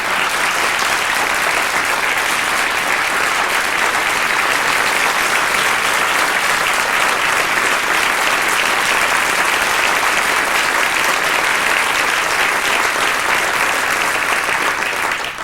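A dense, loud, unbroken round of applause fills a hall for a candidate at a spiritual gathering, steady from start to finish with no pauses.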